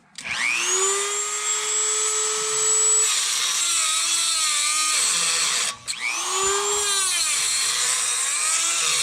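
Dremel rotary tool with a cutoff wheel cutting metal during a quick disconnect install on a Jeep Gladiator Mojave: a loud, steady high-pitched whine that sags as the wheel bites, briefly drops out, then spins back up and keeps cutting.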